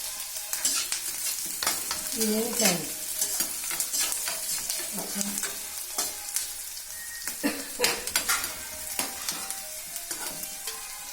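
Onion and curry leaves fry in a pan with mustard and cumin seeds, a constant close sizzle punctuated by frequent scraping and clinking stir strokes, with no talking.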